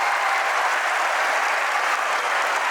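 An audience applauds the teachers at an organised event: dense, even clapping from many hands fills the room steadily, with no voices above it.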